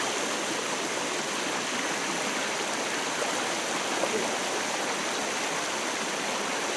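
Stream water on a hill trek at Kolli Hills, a knee-deep flow giving a steady, broad rushing hiss that stays constant throughout with no talk.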